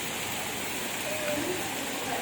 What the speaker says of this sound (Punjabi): ਦੇਖੋ ਪੈਂਦੀ ਬਾਰਿਸ਼ ਬਾਈ ਡੇਲੀ ਇਸ ਵੇਲੇ ਬਾਈ ਮੀਂਹ ਆ ਜਾਂਦਾ